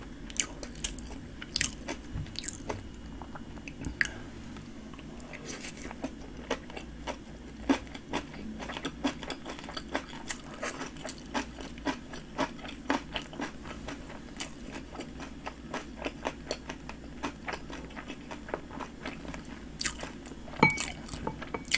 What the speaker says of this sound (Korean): 뭐가 아삭아삭해요